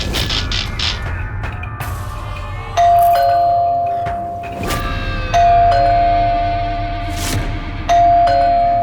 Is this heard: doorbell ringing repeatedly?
yes